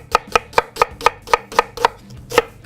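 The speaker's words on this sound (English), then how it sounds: "From there, I'm gonna cut this in half like this." A knife cuts through a large onion on a cutting board in nine crisp, evenly spaced chops, close and clear with no talk.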